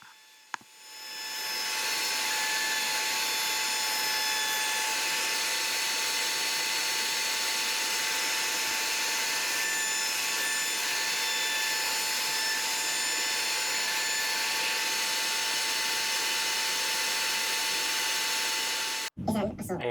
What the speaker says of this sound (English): Next, I use a 1/4 inch roundover to round over the corners.